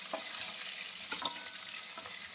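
Small fish frying in a pan of hot oil, a steady bright sizzle with a few sharper crackles and pops, close and moderately quiet, with no one talking.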